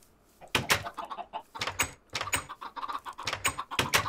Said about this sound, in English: Oh, the chickens.